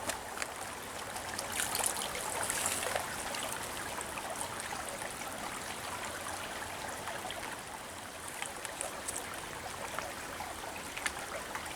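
Steady flowing stream water on a backpacking trail in the Uwharrie National Recreation area, a continuous close rushing and trickling wash with no voices.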